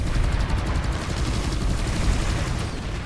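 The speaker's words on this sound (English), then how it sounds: "Our teammates are shooting." Dense, sustained bursts of gunfire from teammates in a shooter video game, loud and continuous with rapid rattling shots and no talk.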